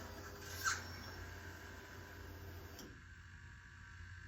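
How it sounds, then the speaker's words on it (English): A 2004 Yamaha R1 motorcycle, sitting unused for years, primes its fuel pump with a faint, steady electric whir and hum that runs several seconds before cutting off, quiet and close. "that was the sound of the fuel pump priming"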